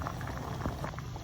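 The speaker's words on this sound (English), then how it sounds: "Then I'll allow it to boil for a while, and then you see how thick the soup is going to become" Oha soup, a thick Igbo soup, boiling in a pot, giving a steady, close bubbling and popping with soft liquid plops throughout and no talking.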